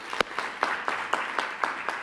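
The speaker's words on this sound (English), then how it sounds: "let's give the NIH a round of applause for that" An audience applauds the NIH with regular, evenly spaced claps, a thin and fairly faint patter heard from a distance in a hall.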